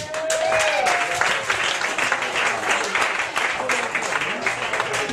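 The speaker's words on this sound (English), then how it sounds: "everyone put your hands together for Nick Lynch" An audience at a comedy show at the Sports Page claps steadily for comedian Nick Lynch, a dense, sustained round of applause after a brief spoken introduction.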